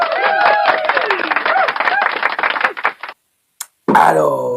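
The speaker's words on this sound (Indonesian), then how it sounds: "Ya tepuk tangan dulu untuk kita semua." Audience applause and cheering on an Indonesian talk show fills the first three seconds, loud and dense with overlapping voices, then cuts to silence before music starts.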